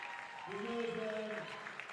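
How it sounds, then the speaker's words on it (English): A crowd at a girls' varsity high school basketball regional final rises in a standing ovation, steady applause and cheering filling the gym while a voice speaks over it. "One last standing ovation as all the seniors check out one last time for Glenbrook North"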